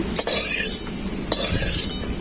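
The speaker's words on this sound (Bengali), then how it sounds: "রসুনটা হালকা করে একটু ভেজে নেব, তার জন্য সরষের তেল দিয়ে দিচ্ছি" Garlic frying in mustard oil in a pan, stirred with a utensil: two scraping, sizzling strokes close up, separated by a brief clink.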